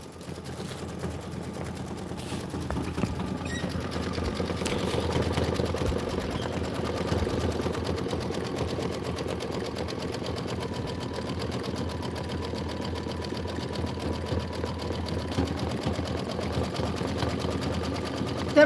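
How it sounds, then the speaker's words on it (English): An embroidery sewing machine stitches out a penguin appliqué design, a continuous fast mechanical whir with rapid needle chatter, close and steady for the whole stretch. "We're going to stitch out the eyes, the nose, and the body detail."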